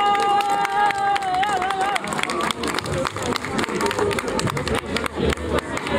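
Audience applause for amateur theatre performers and the members of a music ensemble at a wine-harvest festival. It is a sustained, dense wash of clapping from a crowd, with cheering and some babble mixed in. A brief tonal sound is heard at the start.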